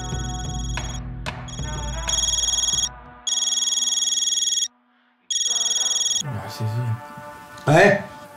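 A telephone rings in repeated electronic bursts with short silent gaps between them, loud and close, following a stretch of music and talk, with a voice coming in at the end.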